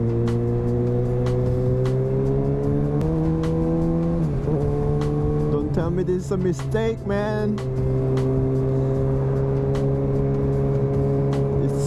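A 2020 Kawasaki Ninja ZX-6R fitted with an M4 exhaust idles loudly and rises through revs, its steady harmonic drone swelling and falling, while someone talks briefly over it.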